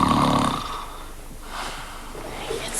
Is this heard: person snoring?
yes